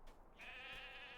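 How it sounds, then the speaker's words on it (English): A sheep in the video game LOTRO gives a single short, sustained bleat with a nasal, wavering tone, fairly faint and heard alone. "Yeah, wiggle your ears, little cute sheep."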